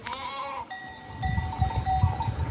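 Goats bleating on a farm among other livestock, with low rumbling animal calls building in the second half over a steady background hum.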